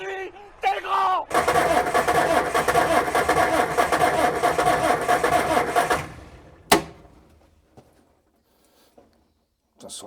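A freshly rebuilt car engine turns over for the first time: a brief cranking, then a loud, rough catch and several seconds of running before it cuts off, followed by a sharp clunk and near silence.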